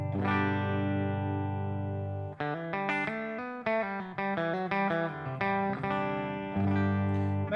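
An electric guitar, either a Fender Telecaster or a Gibson Les Paul, is played on its bridge pickup with stock electronics, lightly overdriven: a long sustained chord, then quick picked notes and riffs, then another held chord, close and alone.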